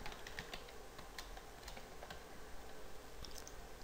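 Fingers type an email address on a computer keyboard in a steady run of soft, quick key clicks, faint and close, with no talking.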